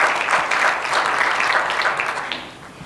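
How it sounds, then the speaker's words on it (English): Moderate applause from a conference audience welcoming new members at an international benchmarking event, a soft wash of clapping that fades toward the end. "So give a round of applause."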